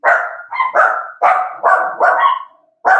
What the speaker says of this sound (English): The dogs just, I don't know. They're reacting to something out there.